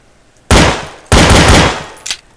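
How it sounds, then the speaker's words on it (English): Two loud gunshot blasts in the Counter-Strike video game, each a sharp crack that trails off over half a second, followed by a fainter shorter report, close and with no talking. "Go ahead and shoot it."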